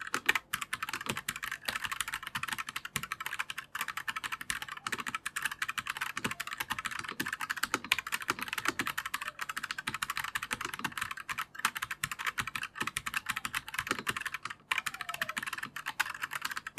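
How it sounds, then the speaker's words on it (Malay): Fast, continuous typing on a First Player GA87 gasket-mount mechanical gaming keyboard, dense clacky keystrokes close to the mic, with a few short pauses between bursts. "ini typing test menggunakan First Player GA87"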